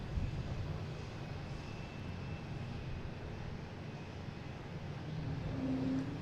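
A JetBlue Airbus A220 arrives at Boston Logan with a steady, low jet rumble held at a distance, swelling slightly toward the end.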